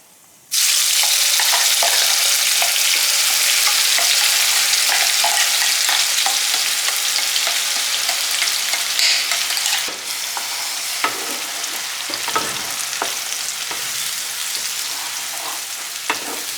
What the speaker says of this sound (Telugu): ఇవి మంచిగా ఫ్రై అయిపోయిన తర్వాత మనం మిక్సీ పట్టుకున్న పచ్చి మసాలా పేస్ట్ వేసుకుందాం